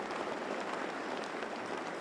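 An audience applauds at an NYPD police graduation ceremony, a steady dense wash of clapping from a large crowd that holds at an even level throughout, with no voices standing out.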